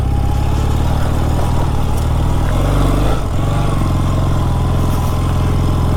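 A 48-year-old Honda motorcycle's engine drones steadily and loudly at close range as it climbs a mountain trail, with a brief dip and shift in pitch midway, continuing unbroken throughout.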